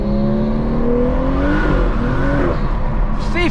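A stage 2 tuned BMW M240i accelerating hard, its engine note climbing steadily in pitch through the gear and then dipping briefly at a shift, loud and close from inside the car.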